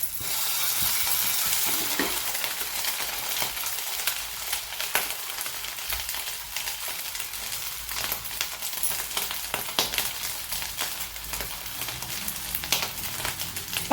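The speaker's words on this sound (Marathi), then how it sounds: "तो तुम्हाला आवाज येत आहे वरून क्रंचीनेसपणा येत आहे वरचं कोटिंग ते आहे ते भाजलं जात आहे" A coated fasting snack roasts on medium gas in a pan, giving a steady, close sizzle with crackly pops and occasional scrapes of stirring throughout, and no voices.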